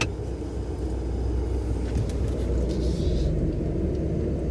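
A Ford Raptor pickup truck cruises on the road, heard from inside the cab as a steady, muffled low rumble of engine and tyres with no speech.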